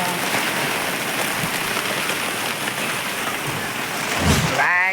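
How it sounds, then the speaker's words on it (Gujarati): Steady rain pours down outdoors on a rural spot, a dense continuous hiss that stays loud and even throughout, with a brief low rumble near the end. "વરસાદ આવી ગયો છે"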